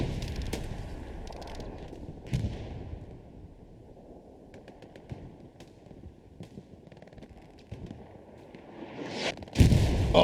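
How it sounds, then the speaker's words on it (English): Artillery barrage in Hell Let Loose during a competitive match, with scattered booms and sharp cracks of varying distance over a quiet rumbling battlefield, building to a heavy close blast at the end. "beautiful artillery coming out from STDB"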